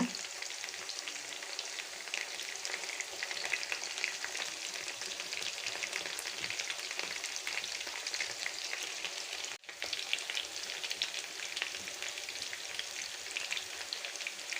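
Fish fries in hot coconut oil with curry leaves, a loud, dense, continuous sizzle and crackle close up, broken only by a momentary dip midway; no voices.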